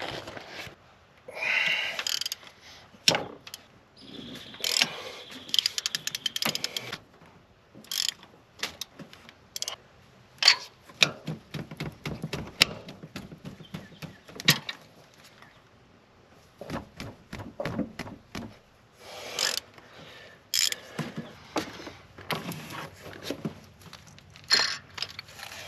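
A hand ratchet loosens rocker arm bolts on a Duramax diesel engine during a head gasket job, giving bursts of rapid clicking pawl strokes separated by short pauses and occasional metallic clinks, close and fairly loud.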